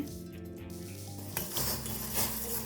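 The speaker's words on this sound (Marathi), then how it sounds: "दोन ते तीन मिनिट बारीक गॅस ठेवून उकळून घ्यायचे" A pan of jaggery tea on a low flame breaks into a loud bubbling hiss after a quieter start, with an occasional utensil clink against metal.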